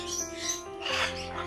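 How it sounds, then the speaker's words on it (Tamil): A talking bird at a resort in Mamallapuram produces short, squeaky, chirping vocal sounds up close, a brief burst of tonal calls with a raspier note near the end. "இதாங்க பேசும் பறவை."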